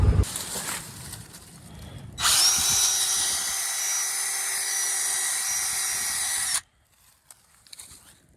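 A power drill bores a tap hole into a maple tree, whining loudly and steadily for about four seconds close by, then cutting off to near quiet.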